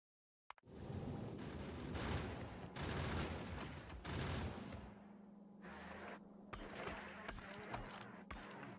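Turrets firing steadily at medium enemies in Factorio Space Age, a dense, continuous rattle of rapid shots with a low mechanical hum, fairly quiet overall.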